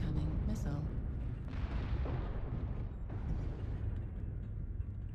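Loud, dense rumbling explosions and booming blasts from incoming missiles in a mech combat video game, piloting an assault mech, continuous and heavy throughout with game voice alerts mixed in.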